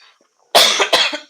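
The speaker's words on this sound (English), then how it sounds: "I'm sorry, I'm coughing all of a sudden." A few sharp, loud coughs in quick succession, close to the microphone, after a brief quiet moment.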